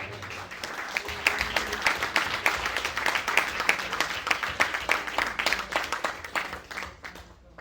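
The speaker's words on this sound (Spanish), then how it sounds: "¿Cuántos le damos ofrenda de aplauso al Señor?" A church congregation gives a sustained round of applause during an evangelist's sermon, many hands clapping densely and evenly for several seconds at moderate distance, then fading out.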